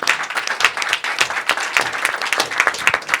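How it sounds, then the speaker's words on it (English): Audience applause at a media breakfast dialogue on a TB high-level meeting at the UN General Assembly, a full room clapping steadily and fairly close for about three seconds, with no talk over it. "Let's give a round of applause."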